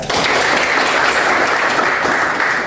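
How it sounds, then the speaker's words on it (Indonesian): Classroom of students applauding together, a dense, steady burst of clapping filling the room for a few seconds without talk. "Terima kasih, berikan aplaus."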